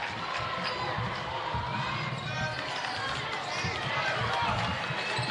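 Crowd noise fills a high school basketball gym in Wyoming during a Lander versus Pinedale game, a dense steady roar of voices with scattered shoe squeaks and ball bounces, a commentator talking over it.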